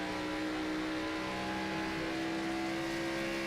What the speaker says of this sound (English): Just listen to him float the throttle